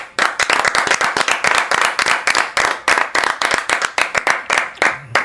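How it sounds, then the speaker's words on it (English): Hands clap close by in a steady, fast rhythm, a small group clapping along together without a pause for several seconds. "We gonna clap it up for DBoy Tha Throwdest."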